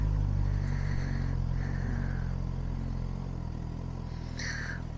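A motorcycle engine idles steadily after a test ride, a deep continuous low rumble that holds even throughout, close to the microphone, with a brief higher whine near the end and no talking.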